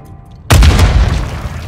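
Grenade blast in the shooter game Call of Duty Modern Warfare 3, a single sudden loud boom after a near-silent moment, with a rumbling tail that fades only slowly.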